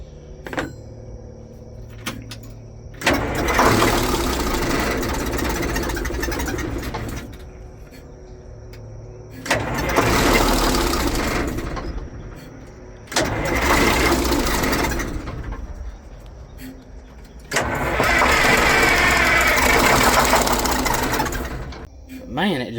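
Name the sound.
Detroit Diesel engine cranking and trying to start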